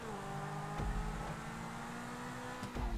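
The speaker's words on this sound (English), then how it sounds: "starting off with the Zentorno here, and quick off the line with the all-wheel drive" Zentorno supercar with all-wheel drive pulling hard off the line in a racing game, engine droning at a steady high pitch with brief thumps of shifts, moderately loud and continuous.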